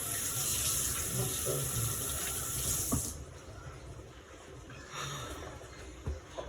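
Tap water runs steadily into a pot as it is washed out at a kitchen sink. The flow is strong for about three seconds, then softens to a quieter trickle with faint clinks.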